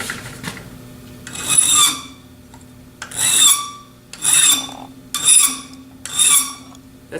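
Drill gauge clamped too high in a vise, screeching with harmonic chatter in five loud bursts of about a second each, with quieter gaps between them and a steady low hum underneath.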